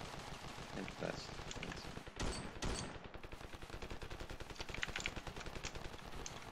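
Rapid automatic gunfire in the shooter game Ravenfield, a dense stream of shots running the whole time with a couple of louder bursts, speech faintly mixed in underneath.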